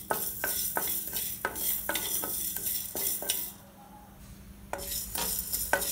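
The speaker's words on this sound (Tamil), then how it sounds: "கடாய் சூடானதுக்கப்புறமா நம்ம எடுத்து வச்சுக்கூடிய மிளகு அண்டு வெந்தயம் ரெண்டுமே வந்து லைட்டாக வறுத்துக்கலாம்." Pepper and fenugreek being dry roasted in a kadai, heard as a steady scraping stir with a rhythmic series of close, crisp clinks against the pan, a short quieter lull, then the stirring resumes.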